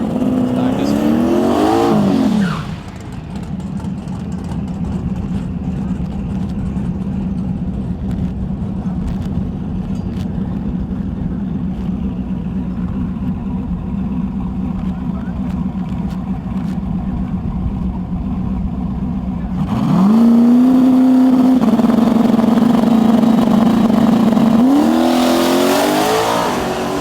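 Drag racing car roaring down the strip at a Canada heads-up series event, with a loud launch and rising engine pitch at the start, a long sustained far-off drone, then another car revving up close near the end, with commentary running underneath.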